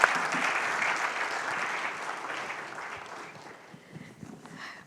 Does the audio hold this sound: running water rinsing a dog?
no